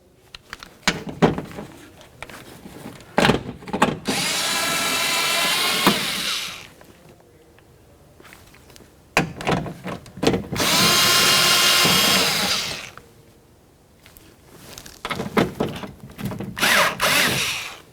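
Power drill working loose 10mm window regulator bolts on a 2003-2007 Honda Accord front door, several loud sustained whirring bursts separated by short clicks and rattles of handling, close up.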